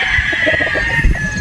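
A Boston Roundhead straight-comb broodstag rooster crowing close and loud in one brief, strained call, with clucks and low farmyard noise around it.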